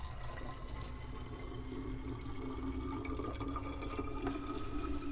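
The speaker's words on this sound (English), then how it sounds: "The process of filling a hot water bottle is very sort of emotional and familiar." Water runs steadily from a tap into a hot water bottle, a continuous close rushing and gurgling flow with no pauses and no voices.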